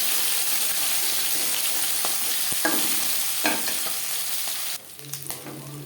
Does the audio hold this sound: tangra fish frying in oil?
yes